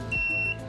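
A multitester set to continuity mode sounding its beep as the probes short together during cellphone repair, one sharp steady electronic tone lasting about half a second, close and clear.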